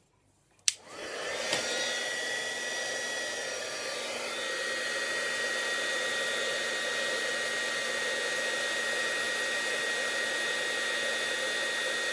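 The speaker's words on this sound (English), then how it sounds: "Noisy heat gun again." A heat gun blows hot air in a steady, loud roaring whoosh that starts abruptly after a brief click and runs unbroken to the end, with no talking over it.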